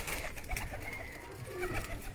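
Pigeons, a fancier's rooftop flock, give faint, low cooing under a steady wash of outdoor background noise, with no clear speech.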